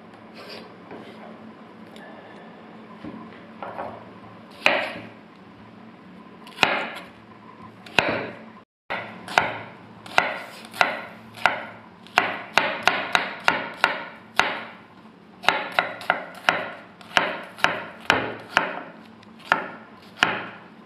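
A very sharp knife chops pork on a cutting board in a steady run of crisp, close knocks with a brief pause, then faster, evenly spaced strokes.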